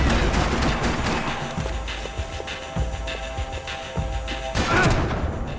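Gunfire in Max Payne 3 during slow-motion bullet-time action: a few loud, dull shots and booms spaced irregularly over a low rumbling backdrop, with a heavier burst near the end.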